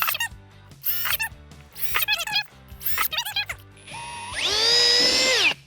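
A power drill with a 2.5mm bit whirs in short bursts between rattling handling noises, then runs steadily for over a second at close range, drilling a pilot hole for a Land Rover Discovery snorkel install.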